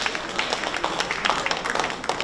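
Audience applause greets the opening dance at a Peking opera commemoration event, a dense patter of many hands clapping steadily from a crowd nearby.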